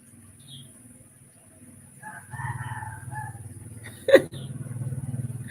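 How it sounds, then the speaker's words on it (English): A rooster crows outdoors in Thailand, a strained call rising over a low steady background, with a brief loud burst near the end. The bird sounds moderately close. "You hear the geckos and the roosters and everything."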